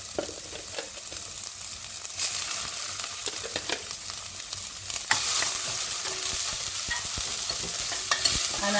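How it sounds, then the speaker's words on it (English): Onions sizzle with crackling mustard seeds and hing in a pan for a Misal pav base, a close frying hiss broken by repeated scraping stirs that grow louder partway through, with no voices. "And now I'll be adding onions."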